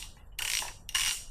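A hidden 6mm Allen head bolt is loosened on a BMW M57 diesel engine during timing chain work, with two close bursts of quick ratchet clicking separated by a brief pause.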